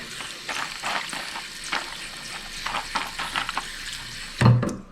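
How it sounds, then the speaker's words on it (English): Hot water poured over about two cups of dry puppy kibble in a bowl, a soft irregular splashing and trickling that ends with a brief louder clatter. "I'm going to add hot water to it. So you're just going to cover it with the water."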